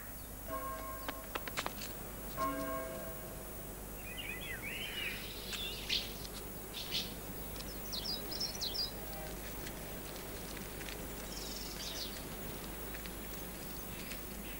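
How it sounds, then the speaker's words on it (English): Faint bird calls and chirps scatter over a steady outdoor hiss, probably house martins twittering at a distance, with a few brief tones early on and no talk over them. "House martins time their spring arrival from Africa using a body clock that beats to a yearly rhythm."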